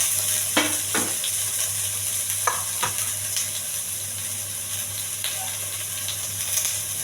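Onion and green chili fry in a little oil with chana dal, mustard seeds and curry leaves for millet upma, a steady close sizzle and hiss broken by a few scraping stirs of a spoon in the pan.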